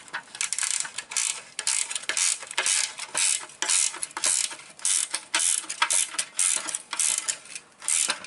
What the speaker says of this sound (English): So I'll be a bit delicate while tightening them.